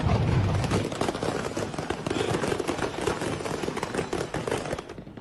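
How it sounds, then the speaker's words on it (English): Fireworks stockpile exploding at a burning fireworks factory in Moscow: a dense, continuous barrage of crackling bursts and pops, loud and close, with no gaps between blasts. "Hundreds of explosions rang out as the stockpile quickly erupted."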